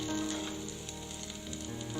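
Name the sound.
onions sizzling while sautéing in a pan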